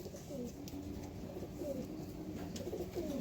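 Light-eyed pet pigeons coo softly in a run of repeated low, rolling calls, faint and slightly distant, with no other sound on top.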